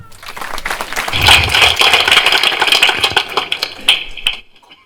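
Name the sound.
audience applause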